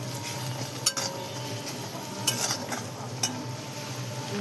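Spices fry with turmeric and salt in a pan for a dried Bombay duck chutney, giving a quiet, steady sizzle broken by three sharp clinks of a spoon against the pan.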